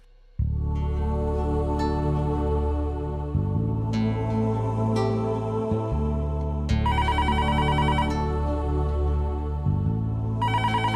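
An electronic ringtone plays a repeating, tuneful melody loudly and continuously, with shifting notes and no voices.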